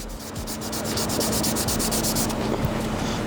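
Touch-up paint is wet-sanded with 1200-grit paper using light crosshatch pressure, giving rapid, close, rhythmic scrubbing strokes that run continuously for a few seconds.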